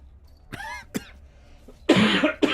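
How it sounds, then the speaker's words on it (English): A person coughs a few times up close in a quiet room, with short sharp bursts and a harsher, louder rasping cough near the end. "Perfectly placed cough there as well."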